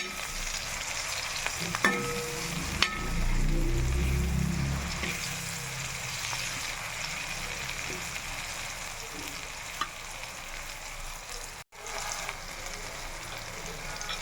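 Washed, chopped tomatoes frying in a pan: a soft, steady sizzle close by, with occasional stirring scrapes and clicks over it.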